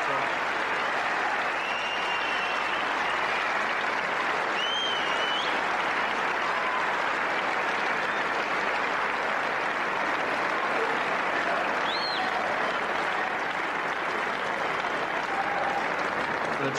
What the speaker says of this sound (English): So your applause, please, as he comes forward to collect his check for Mike Hallett.